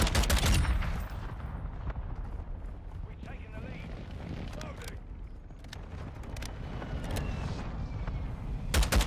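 Mortar strike explosions boom in Call of Duty Modern Warfare 2 amid dense gunfire and battlefield rumble, heaviest at the start and end, with game voice chatter mixed in.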